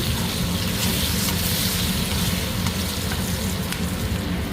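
Green chillies fry in a pan with a dense, continuous sizzle that stays loud and close throughout, with no one speaking.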